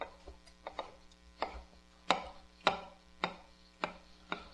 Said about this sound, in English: Now what I'll do is do a rough chop on this